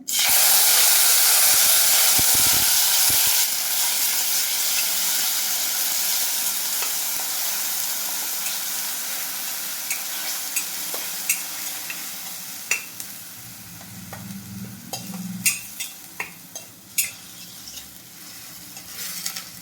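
Chopped onion sizzles and hisses in a hot pan while being stirred for a cashew curry, a loud steady fry that slowly settles, with scattered scraping clicks of the spoon and no talking.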